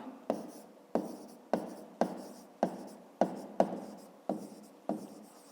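Numbers written by hand during a fifth-grade math exercise, nine quick separate pen strokes on paper in an even rhythm, close and quiet.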